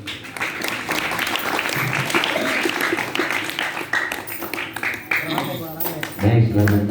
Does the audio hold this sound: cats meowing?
no